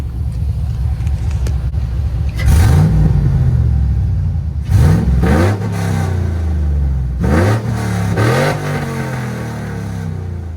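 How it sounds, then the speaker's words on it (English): An E85-tuned Chevrolet Tahoe fitted with an eBay cold air intake idles close by, then a driver blips it through three sharp revs that rise and fall back to a steady idle between each. "So I'm gonna give you guys a couple revs."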